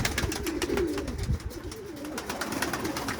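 Pet pigeons coo in a loft, soft rolling coos repeating close by over a steady background hiss, with no talking.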